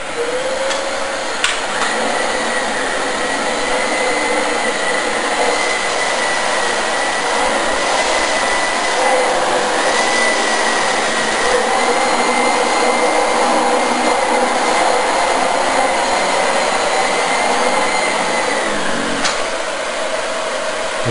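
A Dyson DC25 upright vacuum cleaner runs steadily on carpet with a loud, continuous whine and airy roar that holds for about twenty seconds, shifting slightly in pitch as it is pushed, with no talking.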